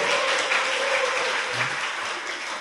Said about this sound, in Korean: 박수!